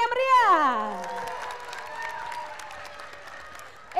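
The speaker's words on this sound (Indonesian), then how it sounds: "kita beri tepuk tangan yang meriah" Audience at a Palembang high school cultural performance breaks into applause and cheering, steady clapping from a crowd that fades slightly over a few seconds, with a voice shouting over it at the start.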